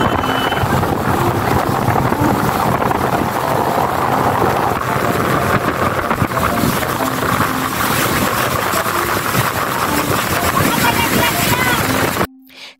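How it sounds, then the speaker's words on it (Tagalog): A speedboat towing a banana boat at a beach resort in Laiya, San Juan, with a loud, steady engine roar and heavy wind buffeting the microphone throughout, cutting off abruptly near the end. "nakasakay sa speedboat kung saan kami ang humihila sa banana boat"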